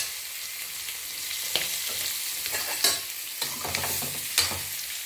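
Eggs fry on high heat in a pan for egg biryani, a steady hissing sizzle broken by a few sharp crackles and spatula scrapes, close and loud with no talking.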